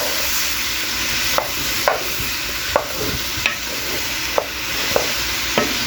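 Vegetables and onions fry in a pan with a steady sizzle, broken by about eight short stirring scrapes at an even, unhurried pace; no one speaks.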